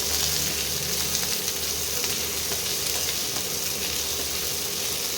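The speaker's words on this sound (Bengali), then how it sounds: "হাফ চামচ জিরে। এগুলো দিয়ে ভালো করে ভাজবো।" Cumin seeds frying in hot oil for an egg curry, a steady dense sizzle holding at even loudness throughout with a low hum beneath, no voices present.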